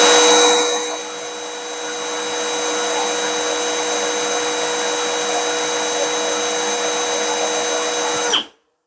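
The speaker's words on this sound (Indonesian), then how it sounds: "Lanjut ke tes RPM, kita pakai dulu di speed 1 ya." Milwaukee M12 FPD2 cordless drill running at speed 1, a loud close steady whine with a faint constant tone that rises briefly at the start and cuts off abruptly near the end.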